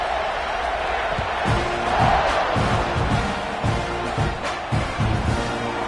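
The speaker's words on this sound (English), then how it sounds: "this crowd is buzzing after that last score" A football stadium crowd buzzes in a dense, steady roar after a score, with faint claps and shouts rising and falling throughout.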